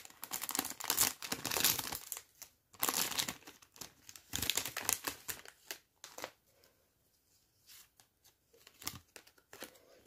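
Plastic foil packet of Animal Jam trading cards crinkling and tearing open in close, busy bursts, pausing briefly and then finishing with a few sparse rustles.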